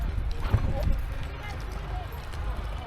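Horses walking on a trail in Kazakhstan with riders on their backs, hooves clip-clopping in a steady, uneven rhythm at moderate level beneath background noise, with people talking faintly.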